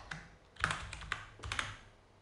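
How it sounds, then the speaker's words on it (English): Quick bursts of keystrokes on a computer keyboard while typing a file name, a few close, clicky taps in uneven clusters over quiet room tone. "hit F2 on the keyboard to rename,"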